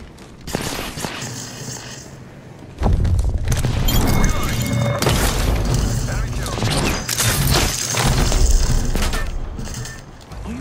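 Frag grenade blast in the Apex Legends battle royale game, a loud sudden boom followed by a dense, continuous roar of gunfire, crackling debris and further heavy thuds, with game voice lines mixed in.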